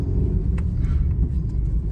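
Steady low engine rumble and road noise inside a moving car on a drive to Trimbakeshwar, a continuous even drone with faint higher whooshes and no talk.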